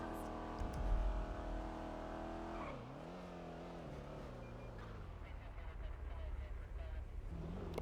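A car cruising through the city in a GTA roleplay game, a steady engine drone whose pitch swoops down and climbs back as it drives, with talk over it.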